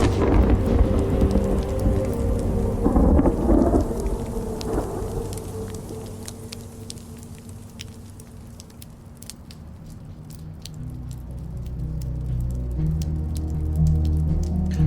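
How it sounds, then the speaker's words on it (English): Rain begins to fall outdoors. A low rumble fades out early on, then scattered drops tap sharply and more often against a quiet background. "Wow, is it raining right now? It is starting to rain."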